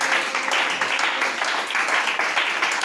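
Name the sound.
congregation applauding in church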